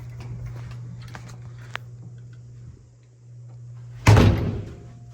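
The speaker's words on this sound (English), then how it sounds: "Let me open the door, okay?" A hotel room door, with a low electrical hum and a few small ticks and knocks at first, then a sudden loud clunk and rattle of the door near the end, followed by a fading rush.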